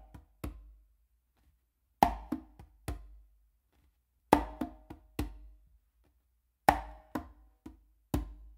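Conga drum played in an a caballo pattern with one hand: close slaps, soft ghost notes and a resting bass stroke, in sharp percussive groups of three or four hits separated by short pauses, close and alone.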